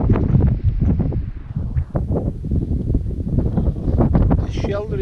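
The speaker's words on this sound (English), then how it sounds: "it was so windy" Strong wind on an exposed hillside at Curleywee in the Galloway Forest Park roars and buffets the microphone in a continuous loud rumble. A muffled voice is partly buried beneath it.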